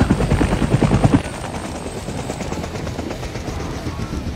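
Mi-28 attack helicopter of the Iranian military, rotor and engine noise loud and broadband with a rhythmic chop, strongest for the first second and then settling into a steady, somewhat quieter drone.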